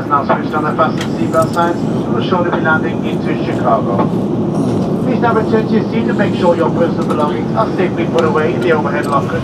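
Steady, loud airliner cabin roar during descent toward Chicago fills the whole stretch, with people talking over the constant drone.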